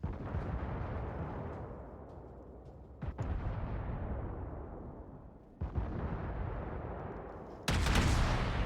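Heavy naval guns booming in World of Warships during a battle with a Tier 3 Russian cruiser, Bogatyr, three deep blasts rolling out in long decaying rumbles, the last sharper and louder, with no talking.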